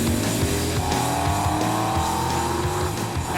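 A '66 Mustang and a car called the Space Mobile race each other, engines revving loud and close with rising tones and tire squeals running throughout.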